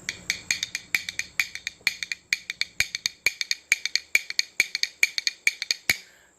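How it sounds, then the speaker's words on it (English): Bones made from cow ribs are clacked together by flipping the wrist, giving a fast, even train of sharp, bright clicks in a steady triplet-like rhythm, played alone at moderate loudness. "These are cow ribs, and they sound like this."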